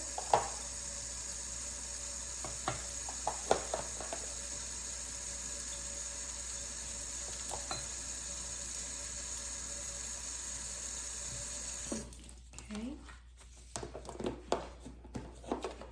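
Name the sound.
pedicure tools rinsed under running faucet water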